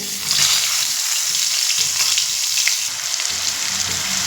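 Loud, close sizzle and crackle of a spice paste frying in oil, steady throughout with some bubbling texture, no voices.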